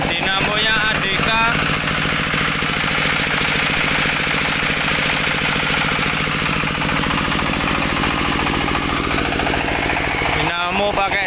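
A Dongfeng diesel engine drives an ADK generator dynamo, a loud, close, steady chugging drone that runs without pause, with someone talking over it.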